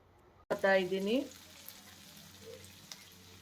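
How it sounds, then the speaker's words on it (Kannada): Paneer masala ingredients frying in ghee, a burst of sizzle starting abruptly then settling into a quieter steady crackle, with a brief tonal voice-like sound over the opening moments. "ಅದಕ್ಕೋಸ್ಕರ ತುಪ್ಪನೇ ಹಾಕ್ಬಿಟ್ಟು ಇದನ್ನೆಲ್ಲ ಐಟಮ್ಸ್ನ ಫ್ರೈ ಮಾಡ್ಕೋತಾ ಇದ್ದೀನಿ"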